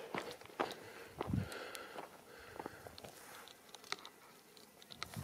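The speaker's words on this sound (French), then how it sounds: "J'ai cru entendre des bruits de pas derrière" Footsteps on a mountain road up Mont Ventoux sound faintly behind, irregular scuffing steps and crunches spread over several seconds, quiet and somewhat distant with occasional breathy sniffs.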